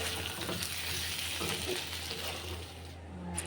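Masala spices sizzle as they are stir-fried in a pan in a home kitchen, giving a soft continuous hiss with faint stirring scrapes.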